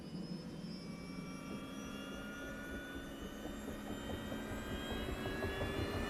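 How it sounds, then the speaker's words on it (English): A helicopter engine in ArmA 3 spools up with a steady turbine roar and high whining tones that rise gradually, holding loud and even throughout with no talking. "let's get the engine rolling"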